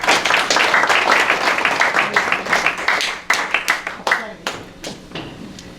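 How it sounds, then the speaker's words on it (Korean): Audience at a Korean trust forum event in Busan breaks into loud, dense clapping that stays strong before thinning into scattered, sharper claps toward the end. "박수 주시죠."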